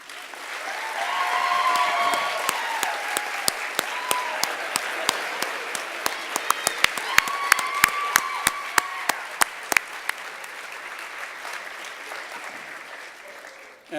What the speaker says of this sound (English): Stand up so we can give you a round of applause.